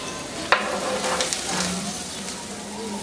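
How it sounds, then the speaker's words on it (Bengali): Chopped onions fry in a little oil in a home kitchen, giving a soft steady sizzle with a brief clatter of stirring near the start, close and fairly quiet with no talking. "আমি পেঁয়াজটা একটু ভেজে ভেজে একটু পুরের মতো একটা জিনিস তৈরি করবো আর কি।"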